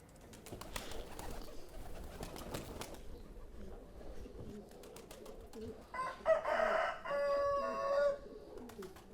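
Racing and homing pigeons kept in a loft coo and call faintly in the background, with a brief louder bird call near the end and no clear speech.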